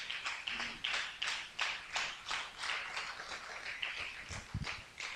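A church congregation claps in a steady, rhythmic beat at a moderate distance, with the claps coming roughly twice a second and briefly breaking up near the end.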